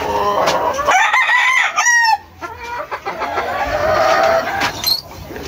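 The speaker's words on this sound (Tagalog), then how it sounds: "nandito nga tayo sa ating munting manukan" Chickens cluck steadily in a small backyard coop while a rooster crows loudly near the middle, with more scattered clucks and calls continuing close by.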